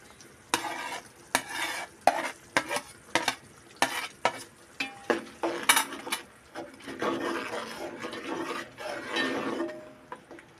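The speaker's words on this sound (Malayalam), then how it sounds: "തിളച്ചതിൻ്റെ ശേഷമാണ് ചെമ്മീൻ ഇടുന്നത്" Prawns are stirred in a boiling vinegar and spice mixture for pickle, with a run of loud rhythmic scraping strokes of a spoon against the pan over a bubbling sizzle, then a steadier simmering hiss.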